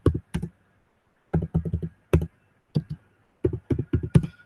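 Bursts of quick keystrokes on a computer keyboard, close and crisp, arriving in short clusters separated by quiet pauses, with no talking.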